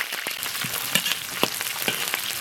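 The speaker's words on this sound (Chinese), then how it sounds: "锅里重新倒一点油，油后下入葱姜蒜白辣椒花椒" Scallion, ginger, garlic, white chili and Sichuan peppercorns frying in hot oil in a wok, a close crackling sizzle with sharp pops and spatters scattered throughout, no talking.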